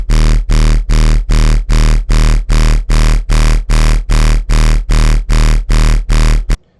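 Gritty synth bass driven through a distortion rack, with the sub pushing against oscillator A, plays loud, dense pulsing notes in a steady rhythm of about fourteen even hits, alone without any voices.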